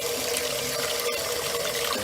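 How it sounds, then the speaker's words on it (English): A lab eye wash station running, with a steady, loud, even rush of spraying water that continues unchanged throughout, no talking. "This is the eye wash station. Okay, you use this paddle here to turn it on."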